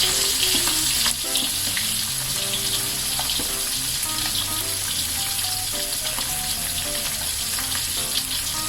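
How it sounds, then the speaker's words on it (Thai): A silver barb fish fries in a little oil in a pan, giving a steady, close sizzle that crackles throughout. Faint tonal sounds sit in the background. "เดี๋ยวแดงทอดต่อให้สุดนะคะ ป ลาก็ใกล้จะสุกแล้วนะคะ"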